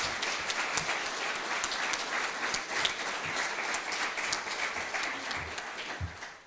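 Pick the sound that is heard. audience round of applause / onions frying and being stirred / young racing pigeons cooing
audience round of applause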